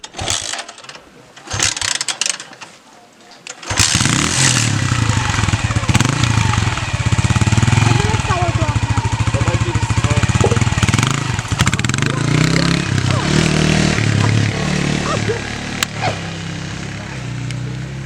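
A motorcycle engine roars into life after a few seconds of quieter sound, then runs loud and steady nearby, revving unevenly throughout.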